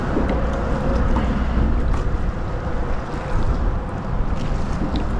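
Steady wind roars across the open water around a kayak during winter sheepshead fishing, a broad continuous rush with faint swell and water movement and no speech.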